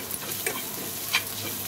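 Tomato frying in a pan while being stirred and mashed for a chicken masala gravy, a soft, steady sizzle with a couple of brief scraping ticks from the spoon, fairly quiet and without voices.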